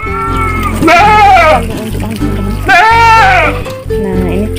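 Goats bleat loudly nearby, two long wavering cries and a shorter one, with a steady hum underneath, including a nanny goat two months pregnant.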